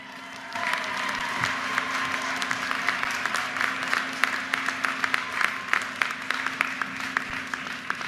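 A large audience at a University of Maryland commencement applauds, a broad continuous roar of clapping with crisp individual claps popping out and a steady low hum beneath, swelling after a quieter start.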